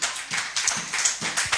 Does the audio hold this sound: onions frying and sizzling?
no